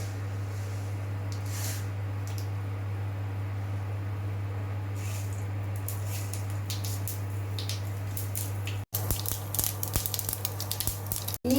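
Mustard seeds frying in hot coconut oil in a frying pan: a steady low hum and soft hiss, then a burst of sharp crackles and pops in the last few seconds.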